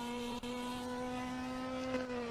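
Ferrari Challenge race cars lapping at Imola during a Trofeo Pirelli race, a steady loud engine drone with a sustained tonal whine holding nearly constant pitch, close and continuous throughout.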